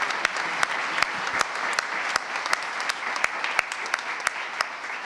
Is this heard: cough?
no